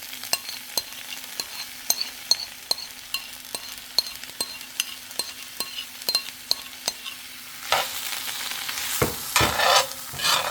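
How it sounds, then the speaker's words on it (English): Spinach and red onions sautéing in a skillet with olive oil: a regular tapping of a utensil against the pan over a soft sizzle, swelling into louder, busier frying and stirring toward the end. "Allow them to saute into the red onions"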